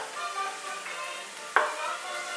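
Wine poured into a hot pan hisses and sizzles steadily, close and moderately loud, with a brief sharp burst of crackling partway through.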